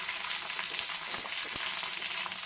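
Large slices of onion fry with chicken on a hot tawa, a loud, steady, hissing sizzle with occasional soft stirring clinks and no voices.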